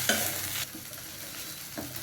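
Spices and ground moringa leaves fry in a pan while being stirred, a loud scraping sizzle at the start easing into a softer, steady crackle with another stir near the end.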